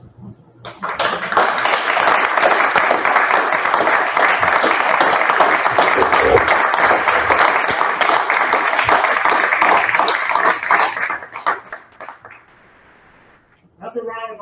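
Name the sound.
audience applause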